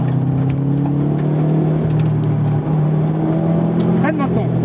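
Subaru Impreza engine droning loudly and steadily as it laps a race circuit, with strong continuous mechanical tone shifting slightly as throttle changes, while an instructor talks over it.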